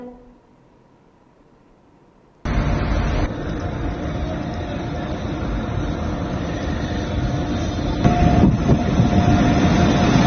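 A train rumbles past at close range, a steady loud roar of wheels and engine that starts abruptly after a quiet moment and swells toward the end.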